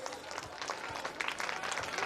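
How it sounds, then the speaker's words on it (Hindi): An audience claps loudly for children at a school's annual day celebration, a brief dense burst of applause from a crowd. "बड़ी जोरदार ताली दे बच्चों के लिए।"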